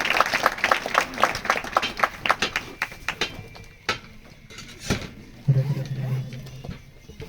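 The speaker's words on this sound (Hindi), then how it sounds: "उनका जोरदार तालियों से स्वागत करूंगी" An audience at a Christmas gathering claps to welcome a guest speaker, a brisk burst of hand claps that thins into a few scattered claps, followed by a low steady hum and faint sounds.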